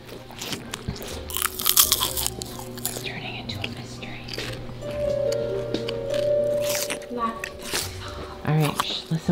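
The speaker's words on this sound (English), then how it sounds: "There's a crunching noise in the kitchen." Crunching noises in a kitchen come as intermittent crackly bursts, mixed with voices and a steady low background hum.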